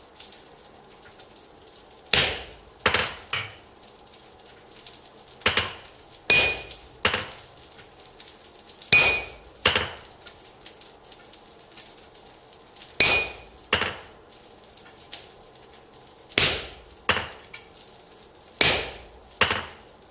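Hot metal is forged with a hammer on an anvil: clusters of two or three sharp, ringing blows repeat at irregular intervals, close and moderately loud, without speech.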